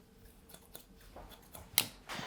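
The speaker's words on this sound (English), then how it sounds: "Perfect hair texture to use these scissors." Scissors texturise hair during a men's long-to-short back-and-sides haircut, giving a few soft, close snips in a quiet room, with one sharper cut near the end.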